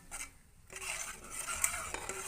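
Majjiga pulusu, a buttermilk curry, being stirred in a pot, with a spoon clinking and scraping against the metal in a few close, fairly quiet strokes, and no voices.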